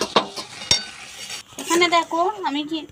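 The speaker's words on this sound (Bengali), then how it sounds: "আলু আর মটরটা আমি কিন্তু এইটার মধ্যে ঢেলে দিচ্ছি।" Boiled peas and potatoes tipped into a pan, heard as a couple of sharp metallic clinks and scrapes of utensil against pan, followed by a voice speaking close by.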